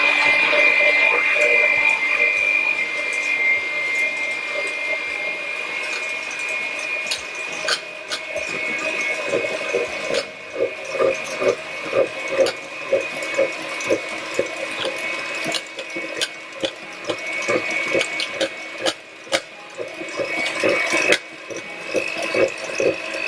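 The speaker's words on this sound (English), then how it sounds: "So let's start beating the eggs." Electric mixer whisking eggs for a caramel meringue dessert, a steady whirring hum with rhythmic scraping and rattling against the bowl, running continuously and fairly loud with no talk.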